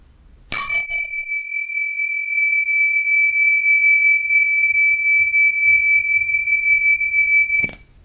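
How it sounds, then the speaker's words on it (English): A single bell strikes sharply and rings out with a long, steady sustained tone for about seven seconds before a second strike cuts in at the end. "The bells say it is."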